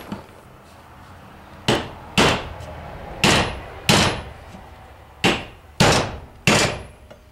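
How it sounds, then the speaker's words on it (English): A bigger hammer drives a bearing into an NP208 transfer case during reassembly: eight sharp, ringing metallic strikes at uneven intervals, each decaying quickly, close and loud with no talk. "And I'm gonna put a bigger hammer here."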